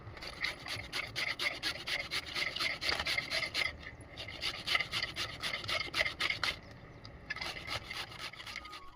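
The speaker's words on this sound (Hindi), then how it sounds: "तो वो घिस रही हैं अब गाजरों को" Carrots are grated by hand on a grater for carrot halwa, giving fast repeated rasping strokes in a steady rhythm with a couple of brief pauses, close and fairly quiet.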